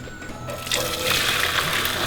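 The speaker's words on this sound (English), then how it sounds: "So I'm going to now just put it through the sieve, because we'll need some of that water" Cooked macaroni and its water poured through a sieve, a quiet start giving way to a steady rushing splash of draining water that continues to the end, with no talk.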